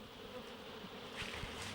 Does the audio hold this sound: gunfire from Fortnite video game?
no